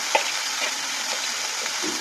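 Onion-garlic paste with chopped tomato and green chilli being stirred as it fries in a pan, a steady crackling sizzle with a few spoon scrapes, close and moderately loud, no talking.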